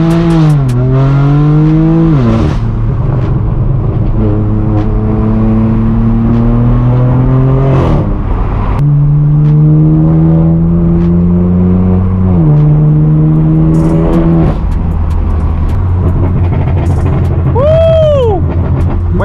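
Straight-piped BMW M4 F82 with a loud exhaust, revving up through several gears in rising sweeps with sharp drops at each shift, close and dominant throughout.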